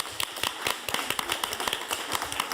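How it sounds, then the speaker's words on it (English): A school board meeting audience gives a brief round of applause for a student band, with quiet, fairly sparse hand claps tapping out at an uneven pace from a small group. "Let's give the Band of Blue another round of applause"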